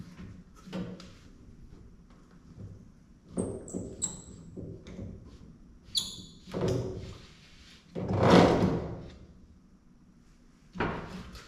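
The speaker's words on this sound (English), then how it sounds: "we're going to remove this clamp right here to lower the window now that that arm is out for the lock" Window clamp being worked loose inside a Grand Wagoneer door panel: scattered clunks, thuds and a few scraping metallic clicks at irregular intervals, with one louder rattling scrape near the end, close and without talk.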